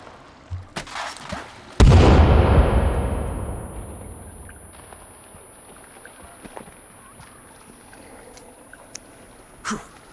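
A thrown grenade explodes in Sons of the Forest, a single loud close blast after a few small clicks, its rumble decaying over a couple of seconds into quiet with faint scattered sounds after.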